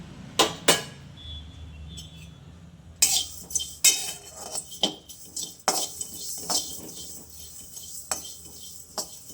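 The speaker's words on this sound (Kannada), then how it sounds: "ಜೀರಿಗೆ, ಸಾಸಿವೆ, ಮೆಂತ್ಯ ಇಷ್ಟು ಡ್ರೈ ರೋಸ್ಟ್ ಮಾಡ್ಕೊಳ್ಳೋಣ" Cumin, mustard and fenugreek seeds dry-roasting in a pan, heard as close, irregular scrapes and metallic clinks of a spoon stirring against the pan.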